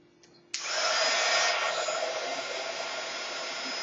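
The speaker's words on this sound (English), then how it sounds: "I'm going to use my heat gun" A heat gun switches on with a sudden rush and blows in a steady, loud whooshing hiss while melting red embossing powder on a soda can tab, continuing evenly to the end.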